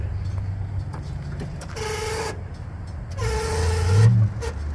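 Electric headlight motors on a 1966 Corvette whir as the headlights rise, two separate humming runs with a squeak, heard fairly close over quiet background.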